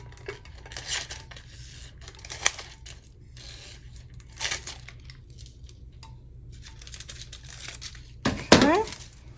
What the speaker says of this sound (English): I'm just going to cut this off because I don't need it.